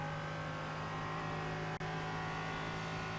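A steady, droning V8 race car engine in the iRacing simulator at Zandvoort holds a constant high pitch with rich harmonics, loud and close, with a brief dropout near the end.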